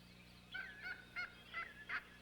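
A series of short honking, yelping wild turkey calls, about five in a row, evenly spaced over a quiet background hum.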